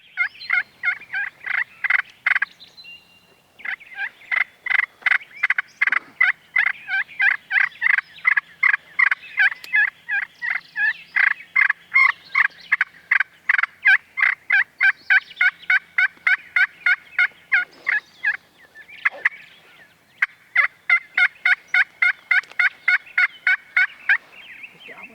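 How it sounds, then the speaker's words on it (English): A wild turkey gobbler in the Ohio woods gobbling in a steady string of rapid, rattling bursts, loud and fairly near, repeating over and over with brief pauses. "He's gobbling at you."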